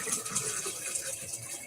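Water runs steadily from an indoor tap, a continuous hissing splash at moderate volume with no speech over it.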